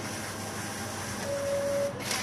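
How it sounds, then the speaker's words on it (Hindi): An NCR Wincore ATM receipt printer pulls in a fresh paper roll with a steady mechanical whir and hiss, then a brief rising motor tone near the end, close and moderately quiet. "इंसर्ट करते रहेंगे जब तक वो प्रिंटर को खींच नहीं लेता।"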